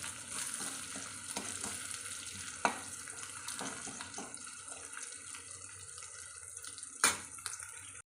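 Mustard seeds fry in a pan while tempering for a mango curry, a continuous crackling sizzle broken by occasional sharp pops and stirring clinks, with no voices.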